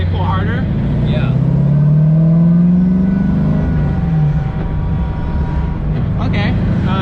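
Supercharged Chevrolet Corvette C7 Z06 V8 engine pulling hard under acceleration, a loud rising rumble that climbs steadily in pitch toward redline before easing off, heard from inside the car with people talking.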